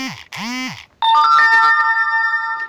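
A mobile phone's message alert for an incoming one-time password SMS: two quick rising-and-falling electronic swoops, then a loud, bright chime whose tones ring on and slowly fade, heard alone with no talking.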